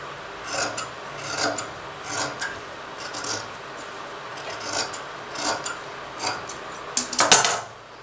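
Scissors cut a fabric strip for a blouse, giving repeated short rasping snips at a regular rhythm, ending in a louder, longer cut.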